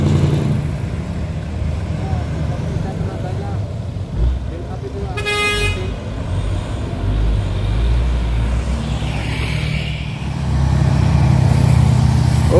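Heavy engine rumble of trucks climbing the steep Bukit Kodok hill road, continuous and fairly loud, with a single horn toot partway through and voices talking over it.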